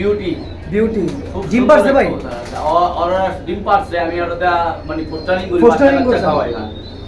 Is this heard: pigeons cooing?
yes